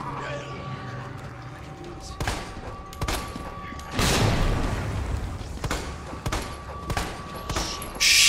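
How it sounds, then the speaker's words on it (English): Gunfire in the video game Resident Evil 2, a series of loud, sharp shots and booming blasts spaced irregularly over several seconds, with a sustained rumbling burst in the middle and mechanical clanks between the shots. "Shit, I am wasting all my shots."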